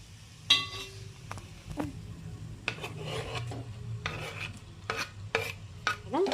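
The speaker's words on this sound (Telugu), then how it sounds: "కలుపుకుందాం ఒకసారి" Amaranth leaf curry with chilli powder being stirred in a pan, heard up close as repeated scraping and rubbing strokes of a spoon against the metal over a light sizzle, with no voices.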